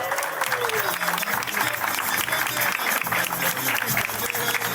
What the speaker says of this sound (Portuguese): Para aplausos de vocês